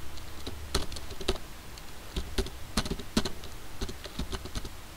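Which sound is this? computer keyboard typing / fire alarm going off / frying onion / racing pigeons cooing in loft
computer keyboard typing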